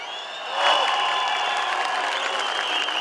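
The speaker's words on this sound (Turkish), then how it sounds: "Lütfen bütün çiftçilerimizi ve üreticilerimizi lütfen hep beraber alkışlayalım" Large outdoor crowd at a political rally applauding farmers and producers, clapping and cheering swelling up after half a second into a steady, dense roar that holds to the end.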